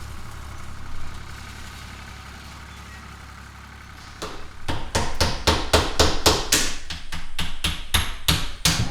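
A tractor idles steadily while raking horse hay into windrows; partway through, a loud, regular run of rapid mechanical thumps starts up and keeps pounding close by.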